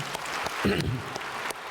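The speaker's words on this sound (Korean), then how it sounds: "박수 한번 합시다" A church congregation at Saeeden Church gives a brief burst of applause, light scattered clapping under a short spoken phrase from a man, lasting under two seconds.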